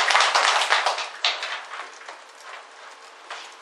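An audience at a Korean parenting lecture on happy families claps together, a dense burst of applause that starts strong and gradually thins out, with a few scattered claps near the end.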